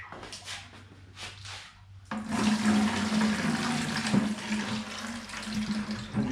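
Water drains from the radiator of a Massey Ferguson 35 tractor, a sudden rush that starts partway through and pours steadily, loud and close, after a quieter stretch with faint knocking.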